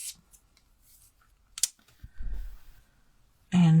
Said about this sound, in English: That's my ribbon scissors.